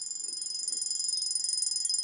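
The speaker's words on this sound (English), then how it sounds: "Oh, the alarm," An alarm clock in the video game A Bird Story rings continuously with a fast, shrill electronic buzz, steady and fairly loud, with no voices.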